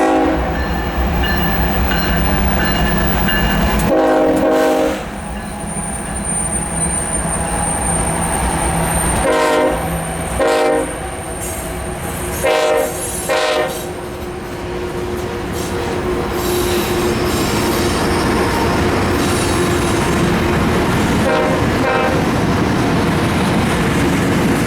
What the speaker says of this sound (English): an ethanol train came on by headed eastbound, being led by NS 8047 and